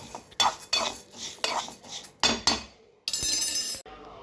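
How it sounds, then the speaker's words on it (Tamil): Moong dal dry-roasted over medium heat in a pan, stirred with a metal spoon, with repeated close scraping and clinking strokes in bursts and a brief continuous rattle near the end, no talk. "இப்போ பாசி பருப்பு மிதமான தீ வச்சு விட்டு நல்லா சவந்து வர அளவுக்கு வதக்கிக்கலாம்"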